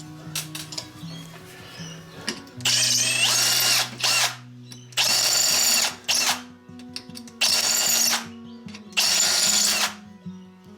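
Power drill working on a Harley engine coffee table build, running in four loud sustained bursts of a few seconds each with brief ratcheting and clicking between them, close up with no talking.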